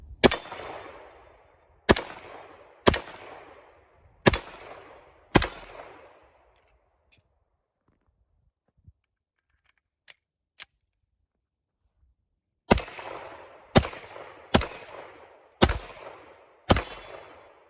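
Springfield Range Officer Elite Operator 1911 pistol in 9mm firing: five sharp, loud reports at steady intervals, a quiet pause with a few small clicks, then five more shots in quick succession, each ringing out with a short decay.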